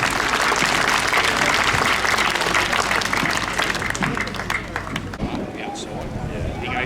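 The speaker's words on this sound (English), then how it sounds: "Give them a round of applause." An audience at a primary school's 75th anniversary event breaks into loud, sustained applause that gradually thins out, with some crowd voices mixed in.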